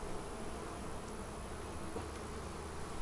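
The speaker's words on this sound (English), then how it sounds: "I have a piping queen." Honeybees hum steadily inside a hive in a beekeeping yard, a continuous dense buzz throughout; the faint queen piping is not distinct over the colony's drone.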